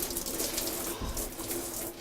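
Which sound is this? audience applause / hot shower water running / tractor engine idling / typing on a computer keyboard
hot shower water running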